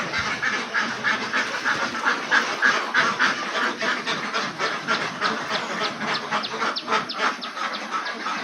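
Ducks inside a duck farm shed keep up a loud, dense chorus of quacking, with rapid repeated calls overlapping steadily throughout.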